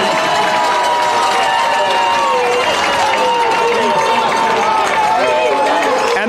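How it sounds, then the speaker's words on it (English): A loud football stadium crowd roars and cheers steadily through a varsity game against Eastside, the dense noise staying high and continuous with a busy mix of voices throughout. "Defense waving their hands, trying to get the crowd hyped, and they're as loud as they've ever been"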